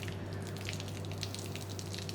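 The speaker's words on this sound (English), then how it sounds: "we're gonna go ahead and pull the trigger, let water come through" Water runs steadily through a BIGBOI WASHR FLO pressure washer with its nozzle removed, a faint, even flowing hiss over a low constant hum, with no talking.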